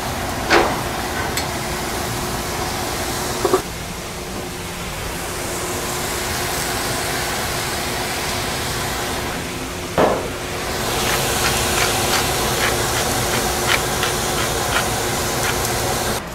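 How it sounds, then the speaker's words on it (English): Steady broadband hiss of steaks sizzling on a grill heated to 400 degrees, continuous and fairly loud, with a few brief clanks of a utensil. "You can hear them sizzling."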